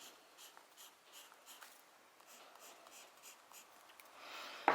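Graphite pencil strokes scratching across paper while drawing a grid of lines, a steady run of short, quiet rhythmic scrapes close to the microphone.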